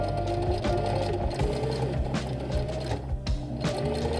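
A sewing machine stitches elastic onto the neckline of a princess-seam puff-sleeve day dress, giving a steady close mechanical whirr with small rhythmic ticks and no voices.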